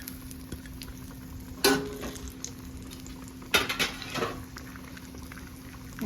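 Cashews frying in ghee for Coimbatore-style carrot halwa, a soft bubbling sizzle under a steady low hum, broken by a few sharp clinks of a spoon against the pan.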